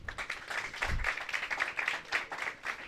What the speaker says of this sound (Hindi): इनके लिए ताली बजा दो सब लोग